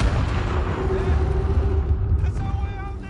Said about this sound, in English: Gunpowder and a cannon in there.